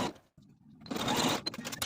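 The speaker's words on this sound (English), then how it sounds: "take it to my sewing machine and sew right along that original hem stitching line" A sewing machine stitches along the hem of a 1970s-style jersey wrap dress in a short, quiet buzzing run of rapid stitches after a brief pause, close up with no talking.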